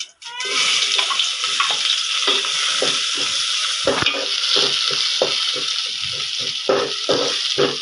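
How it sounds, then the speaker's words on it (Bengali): Onions, chilies and whole spices, cumin among them, frying in mustard oil in a pan for khichuri on a rainy day, a steady close sizzle with scraping stirring strokes and light clinks throughout, no talking. "প্রথমে আমি পেঁয়াজ আর গোটা মশলাগুলোকে খুব ভালোভাবে ভেজে নিব।"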